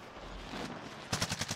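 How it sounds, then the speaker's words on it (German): Fortnite video game gunfire, a quick rapid burst of about five sharp shots near the end, after a stretch of low background noise. "Ich schieß auf die, die sterben nicht."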